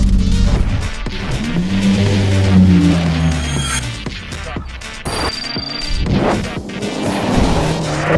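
A 1000 hp BMW G81 M3 driving, its engine droning low and loud with shifting revs and several sharp knocks and bumps along the way.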